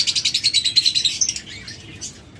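A pair of green opaline budgerigars chirps in quick, bright repeated bursts, close and fairly loud, with a rapid rhythmic chatter that fades toward the end.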